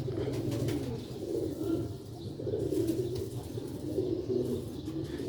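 Tiger pigeons, a pair, coo in soft repeated low rounded phrases close by, the calls rising and falling in steady waves with faint chirps over a constant background hum.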